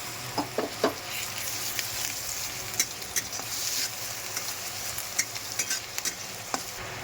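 Garlic frying in oil in a pan for a prawn malai curry, a steady close sizzle with scattered crackles and spatters and occasional stirring scrapes, with no talking.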